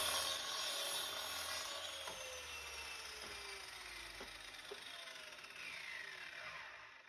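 A miter saw cuts through a wooden board in a home woodworking project, a steady loud whining buzz of the blade that slowly tapers off, with no talk over it.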